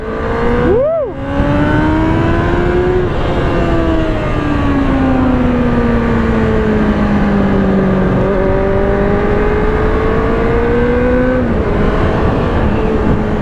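A 1990 Suzuki GSX-R 750 sport motorcycle engine rides loud and close, blipping sharply once, then holding a strong rising-and-falling whine through the gears with a long sustained pull, under steady wind rush.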